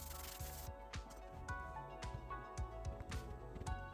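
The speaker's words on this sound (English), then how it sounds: "So continuing a quick rough sand with 40" Rough sanding of scrap wood with coarse 40-grit sandpaper for a coat rack, a steady gritty rubbing with repeated back-and-forth strokes, close and fairly quiet, with no talking.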